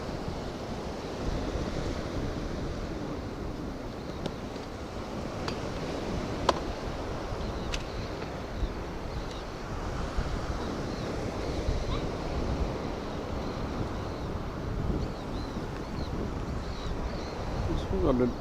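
Steady breezy wind buffets the microphone at the seaside while fishing in cold weather, blending with a constant wash of surf; a loud, continuous roar with a few faint clicks and no clear speech.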